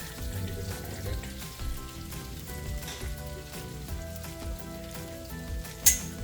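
Poha (flattened rice) is added to a hot pan and sizzles steadily throughout, with a soft, even crackle and a sharp click near the end.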